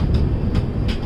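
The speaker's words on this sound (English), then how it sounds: "And that's our train." A long diesel-hauled passenger train on the Ahmedabad to Bhuj route rumbles past nearby, a steady loud rolling roar with a few brief hissing surges, no voices.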